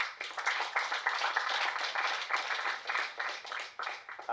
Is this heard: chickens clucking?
no